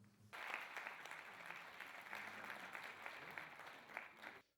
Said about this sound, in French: C'est par ces acclamations que les députés ont adopté à l'unanimité le règlement de l'Assemblée nationale